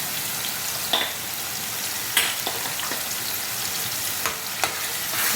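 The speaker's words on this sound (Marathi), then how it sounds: "चांगलं परतून घेऊया" Spice masala, turmeric and garam masala sautéing in a pan for a fish curry, a dense close sizzle with a few sharp scrapes and taps of the spoon against the pan, no voices.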